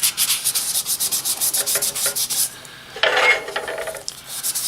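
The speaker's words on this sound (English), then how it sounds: "I'm just going to sand where the silicone is going to go to get a decent seal" Sandpaper rubbed back and forth over clear-coated copper, a steady rasping series of strokes close by, with a louder, harsher burst of scrubbing partway through and no talking.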